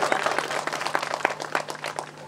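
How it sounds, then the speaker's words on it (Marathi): An audience at an Adivasi Dhangar literary conference in Belati, Maharashtra claps in a scattered, steady patter, with voices murmuring beneath it. "आता वाजवा टाळ्या."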